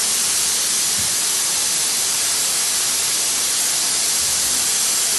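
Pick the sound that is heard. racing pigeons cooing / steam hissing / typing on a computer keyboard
steam hissing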